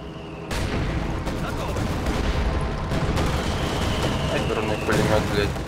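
Dense, continuous gunfire and battle noise from the video game Company of Heroes 2, with machine guns and explosions rattling loudly and without pause after an abrupt start.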